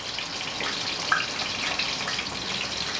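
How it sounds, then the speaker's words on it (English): Water poured into a cooking pan of squash simmering in coconut milk, a short steady splashing pour heard up close with no talk. "And now you can add a little bit of water,"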